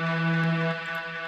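A single piano sample loops dry, with no reverb or filtering, holding a rich sustained tone and showing a slight shift in its low note partway through, close and alone.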